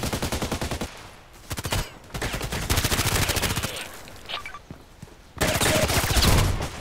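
Rapid bursts of automatic gunfire in the online shooter Contract Wars, with loud close volleys separated by short pauses and more distant shots in between.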